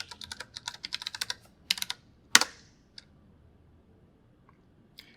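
Quick run of keystrokes as a password is typed on a computer keyboard while connecting to a server over SSH, a dense burst of clicks followed by a louder single press and a few scattered taps, close and alone.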